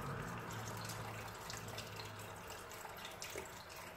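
Chicken broth poured from a whole container into a pot of pumpkin turkey chili, a continuous soft stream of liquid splashing at a steady rate throughout.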